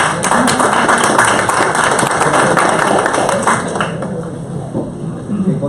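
Audience applause after a talk, dense and sustained clapping from a crowd, loud and close, tapering slightly toward the end.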